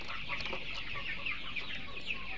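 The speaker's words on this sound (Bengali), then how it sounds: "আপনি দেশি মুরগির মতো টাইগার মুরগি" Tiger chickens cluck softly in their room, a dense, continuous murmur of overlapping clucks and short calls from several birds, fairly faint and without talk.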